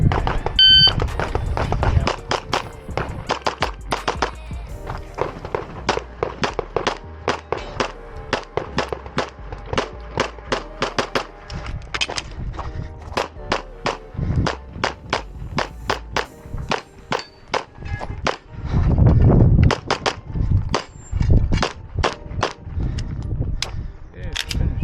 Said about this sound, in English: This one was 3 shots on every target, 40-something rounds once again.